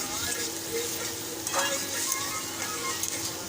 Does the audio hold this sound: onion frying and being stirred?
yes